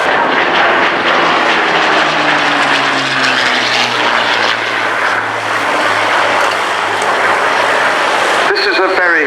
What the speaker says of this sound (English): the North American P51D Mustang.